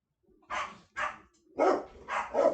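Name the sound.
dogs barking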